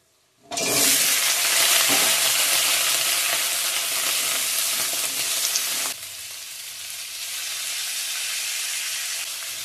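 Potatoes fry in hot oil in a heated kadai, a loud, steady, close sizzle that starts abruptly and then drops to a softer, continuous hiss partway through.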